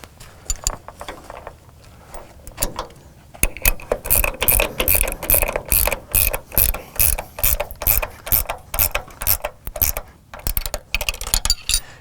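A ratchet tightens an M12 nylock nut on a camper's support leg, giving a close series of rapid clicking strokes in steady repeated bursts, with a few slower clicks at the start.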